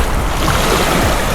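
Waves wash in at Manuel Antonio Beach in Costa Rica's national park, with a loud close rolling surf roar and wind buffeting the microphone while someone stands in knee-deep water.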